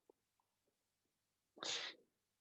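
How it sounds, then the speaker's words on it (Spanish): One loud, breathy sneeze bursts out close by after a few faint clicks and small mouth sounds in an otherwise quiet room. "Adelante con los estornudos para todos lados."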